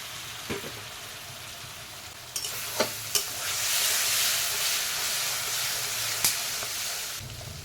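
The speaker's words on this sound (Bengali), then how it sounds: "এবার জল দিয়ে ভালো করে কষিয়ে নেব" Turmeric and chili powder cook with a splash of water in a pan for chicken curry, making a constant hiss that swells partway through, with a few sharp clanks of a stirring spoon.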